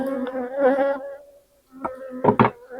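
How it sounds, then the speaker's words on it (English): Close insect buzzing in short bursts, droning on and off with a brief pause in the middle. "These bees are going to be pissed at me when I'm done"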